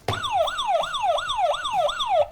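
A retro video game quiz contestant's buzzer gives off a wailing siren tone, rising and falling about six times in quick, regular sweeps, loud and clear with nothing else heard.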